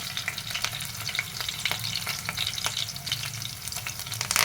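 Green chillies and chana dal sputter in hot oil as a tempering for idli upma, a loud, busy crackle with sharp pops and occasional stirring scrapes, close and continuous with no voices.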